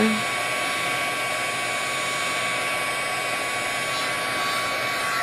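A heat embossing tool blows hot air steadily over a paper card flower, a continuous close whoosh with a motor whine running for several seconds without pause.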